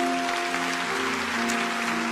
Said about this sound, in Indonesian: Kasih tepuk tangan, welcome home untuk mereka.